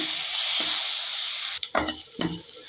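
Soaked chana dal and toor dal stirred in a pan over a loud continuous sizzle, with a few distinct scraping stir strokes toward the end, close and unvoiced.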